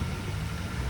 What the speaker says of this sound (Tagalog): Tahimik na tahimik na po yung makina.